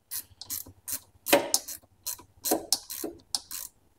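Hose clamps being tightened with a ratcheting tool on rubber supply hoses, giving quick bursts of close, crisp ratchet clicks in a stop-start rhythm, loud and alone.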